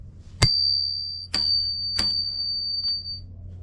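Bicycle bell mounted on a bike's handlebar, struck three times: sharp metallic dings with ringing tails, the last fading slowly, over a low steady hum.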